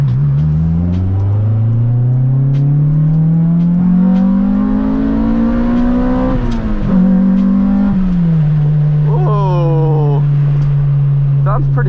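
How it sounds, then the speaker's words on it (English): Loud Honda Integra engine revs climb steadily in pitch into VTEC, then drop as the car shifts and settles into a steady drone, heard from inside the cabin. "Hear that VTEC."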